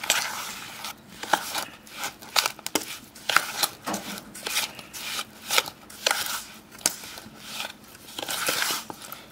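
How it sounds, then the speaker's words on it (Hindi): Biscuit dough ingredients are worked together with ghee by hand, producing irregular crumbly squishing and scraping bursts, close up and fairly quiet, with short gaps between strokes. "अच्छा से हम सभी चीज़ों को मिक्स करेंगे घी में"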